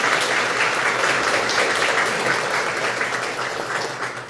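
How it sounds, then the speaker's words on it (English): Applause from an audience at a meet-the-candidate event in a Presbyterian church, steady dense clapping that holds for several seconds and tapers slightly toward the end. "Let's applaud you all and the candidates and Tommy for all the work you do."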